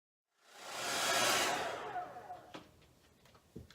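A hair dryer fitted with a diffuser attachment blows a broad rushing whoosh. It swells up after a brief silence, then cuts off and leaves a few faint clicks and handling knocks.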